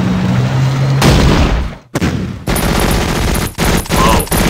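Rapid machine gun fire from Italian tanks in the Battle Academy war strategy game, dense continuous bursts with a short break near the middle, loud and close with no voices.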